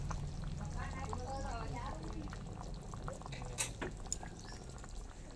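Coriander leaves being rinsed in water, a steady splashing and pouring wash with a few sharper knocks, under a person talking nearby.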